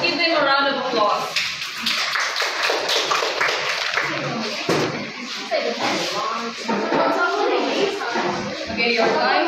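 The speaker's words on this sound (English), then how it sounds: "Let's give them a round of applause." A group in a classroom claps in scattered, uneven bursts. Voices talk over and between the clapping, along with some taps and thumps.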